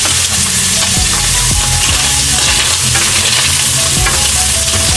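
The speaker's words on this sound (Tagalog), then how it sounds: "lagyan pa natin ng konting mantika. Para ilagay na natin yung white onion." White onion sautéing in oil for ginataang mongo, a loud steady sizzle with repeated scraping stirs of a utensil in the pan, close up and without talk.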